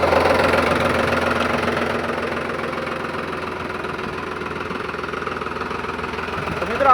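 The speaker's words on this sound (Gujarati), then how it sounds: "મિત્રો આપણે ટ્રેક્ટર ચાલુ કરી દીધું છે," A tractor idles after being started to charge its battery following many days unused, its engine thumping in a steady, fairly loud knocking rhythm close by for the whole stretch.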